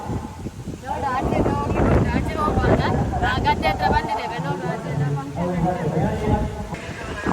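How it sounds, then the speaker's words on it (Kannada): Strong wind with rain in a plantation buffets the microphone in loud, rumbling gusts while people talk over it. "ಗಾಳಿ ನೋಡಿ ಫುಲ್ಲು ಗಾಳಿ"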